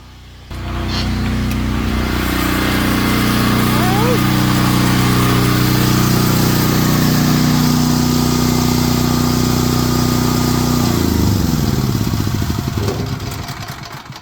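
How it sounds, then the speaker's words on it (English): A home generator engine runs loud and close with a steady droning hum, starting up abruptly and holding level before easing down toward the end. "we're gonna go outside and we're gonna turn the generator off"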